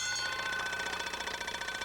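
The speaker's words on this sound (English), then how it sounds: "there's the bell, ending chunker number 2" A bell rings to end a chukker at a 1986 Americas Cup polo match between Argentina and the USA. The ringing is rapid, continuous and fairly loud, with steady metallic tones throughout.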